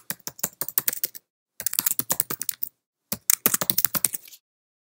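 Fast typing on a Mac computer keyboard, close crisp key clicks in three quick runs separated by short pauses, with no voices.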